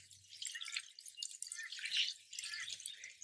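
Water poured onto potted potatoes trickles and drips through moist compost, a soft continuous patter of close, bright droplets with slight surges, no voices.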